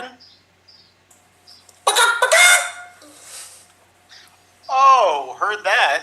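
A man imitates a chicken with loud, wavering clucks and squawks in two separate bursts during an improv comedy stream, separated by quiet pauses with faint background sound.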